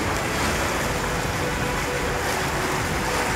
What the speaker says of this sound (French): Il y a de l'eau qui coule.